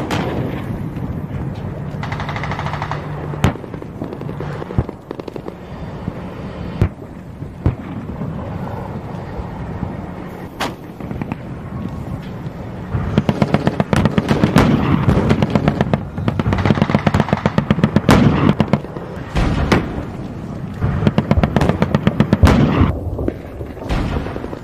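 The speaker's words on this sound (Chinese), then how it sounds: "美军动用大炮、飞机、坦克对志愿军447团不足10公里的沿线阵地狂轰滥炸及步兵冲锋" Artillery bombardment and gunfire from Korean War battlefield footage: sharp booms and cracking shots scattered throughout, growing denser and louder in the second half.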